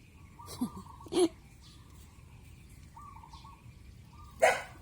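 A dog barks a few times, short separate yelps spread across the stretch, moderately close, with faint bird calls in the background and no talk.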